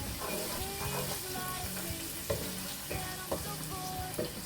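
Ginger, garlic and coriander sizzle in a hot pan for a lamb and cabbage curry, with a constant frying hiss broken by a few scraping stirs of a utensil and no talk.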